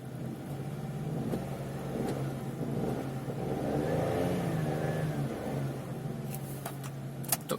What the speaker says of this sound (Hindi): उसी के साथ अगर अब मैं थोड़ा एक्सेलरेट करूं